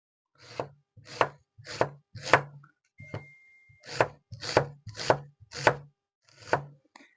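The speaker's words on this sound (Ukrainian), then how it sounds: "А поки ми витерли і вимили садж, ми наріжемо зараз цибульку." Knife slicing an onion into half rings on a board, about a dozen crisp, evenly paced chops with a brief pause midway, close and clear.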